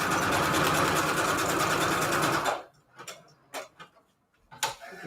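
Sewing machine stitching Christmas scrap paper clusters: a steady, rapid mechanical whir running loud for a few seconds, then stopping, followed by a few faint clicks and handling noises.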